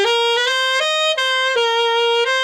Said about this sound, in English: So I'll play that whole bar for you just slowly